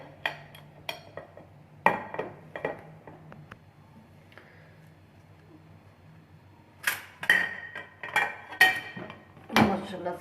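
Carrot barfi comes out of its mould and is cut, heard as scattered clinks and knocks of a utensil against a tray or plate, a few sharp taps early and a busier cluster of clatter near the end, with quiet gaps between.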